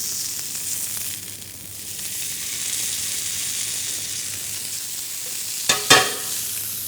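Chicken pieces grilling in a pan over slow heat, turned with tongs, give a steady close sizzle and crackle throughout, with a couple of sharper clatters near the end.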